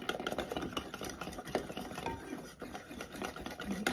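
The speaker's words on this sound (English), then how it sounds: "I'm actually going to use my dough whisk for this. Give it a good mix it all together." A dough whisk stirs sourdough crumpet batter in a bowl, a close wet sloshing and scraping in a quick, uneven rhythm with light knocks against the bowl.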